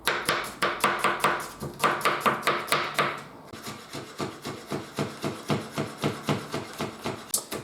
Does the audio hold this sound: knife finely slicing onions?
yes